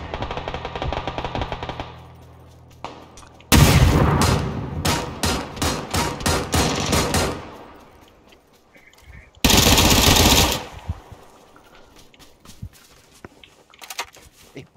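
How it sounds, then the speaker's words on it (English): Automatic gunfire in the battle-royale video game PUBG, with two loud sustained bursts of rapid machine-gun shots separated by quieter stretches, plus lower background game noise. "Oh, the guy's under heavy fire."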